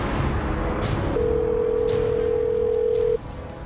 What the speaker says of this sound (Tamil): ரிங் போகுது